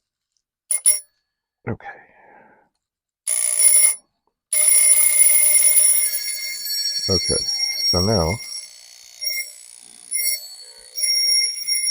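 An old telephone bell, salvaged alongside a scouting-era mess kit, rings in short metallic bursts while being adjusted, some long and sustained and others brief, loud and close, with a person speaking briefly between the rings.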